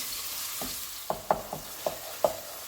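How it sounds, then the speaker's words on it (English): Ground beef for a tamale pie is broken up and stirred in a pan, a soft frying sizzle under a series of sharp spatula scrapes and taps, about six strokes spaced irregularly, close and fairly quiet. "Now I'm just going to break this down and continue cooking and sauteing my meat."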